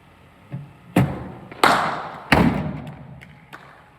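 A cricket bat meets balls fired from a bowling machine during in-swing batting practice. The sound is a few sharp, close wooden knocks, each followed by a short ringing decay, with a fainter thud before the first strike.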